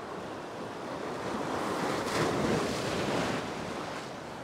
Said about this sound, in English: Now I can see some waves coming out the back.